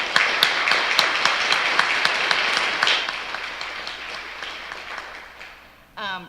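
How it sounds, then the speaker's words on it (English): An audience at a public safety forum applauds in a burst of hand clapping that thins out and fades over several seconds before a voice begins speaking at the end. "So let's give them a round of applause and thank them for being here."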